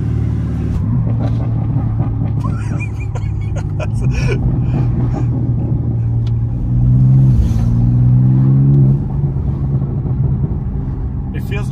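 A BMW M2 engine idling with a steady low rumble inside the car on a test drive, swelling into a brief rev in the middle before settling back, with voices talking over it.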